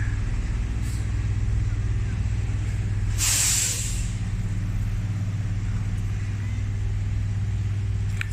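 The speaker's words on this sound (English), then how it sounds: "Don't get run over by the truck." A truck idles on a Montreal street with a deep steady engine rumble, then its air brakes release a loud bright hiss lasting under a second, close by amid constant street noise.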